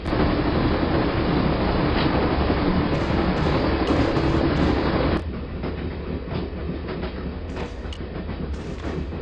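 Train rolling along the tracks in the video game Broken Sword: Shadow of the Templars, a loud continuous rumble with a faint clickety-clack that drops to a quieter steady hum halfway through.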